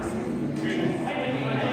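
Voices from spectators at an amateur football match between KEF FC and Elwood City Old Boys, a murmur of shouted and spoken comments from the crowd mixed with open-air ambience, fairly close and continuous.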